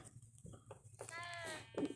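Sheep in the Minecraft video game bleat with a quavering, wavering cry that rises over the last second of a short stretch. Voices talk underneath and around the bleat.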